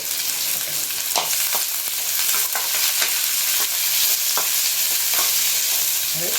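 Steady sizzling and frying of onion and crushed garlic in a hot pan, with occasional scraping stirs of a spoon, close and continuous, without any talking.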